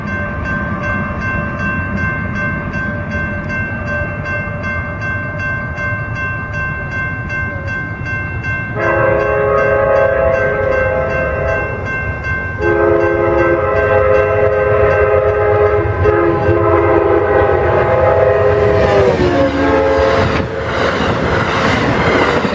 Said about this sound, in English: right here is either the 21 or the 22 Texas Eagle coming past the UP grain train